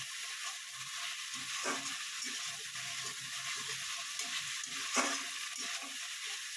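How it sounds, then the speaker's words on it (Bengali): Tangra fish being sautéed and stirred in a pan, giving a steady broad sizzle with a few louder scrapes of the spatula, close and alone. "ট্যাংরা মাছ দিয়ে একটু কষিয়ে নেবেন।"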